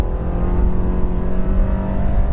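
A 2014 Volkswagen Tiguan 4Motion at full throttle on a test track, its engine note loud and steady with rising harmonic tones throughout, no voices.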